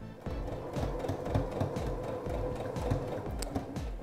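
Sewing machine stitching a curved seam at slow speed, a rapid rhythmic mechanical clatter of the needle running steadily and close for the whole stretch, with no talk.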